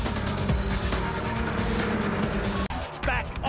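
MINI Challenge race cars racing at Phillip Island circuit, loud continuous engine roar from several cars close by, with a brief dip before the noise surges again.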